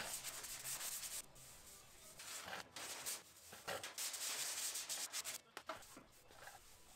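Filler coat on a 1992 Ford F150 cab corner is sanded by hand with 120-grit paper, a steady gritty scraping that runs in long rubbing passes with brief pauses between strokes.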